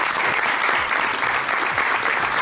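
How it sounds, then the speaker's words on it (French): A television studio audience applauds during a live broadcast, loud and close, with a thick, even wash of clapping that holds steady throughout. "Bah bravo, déjà on peut applaudir."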